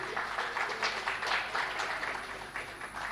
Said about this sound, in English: And a big round of applause for him, please.